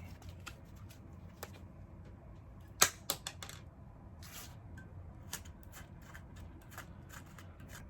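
An all-in-one wire tool squeezed to snip through a screw gives a sharp metallic snap, followed by a couple of smaller clicks, close up and alone against quiet room tone.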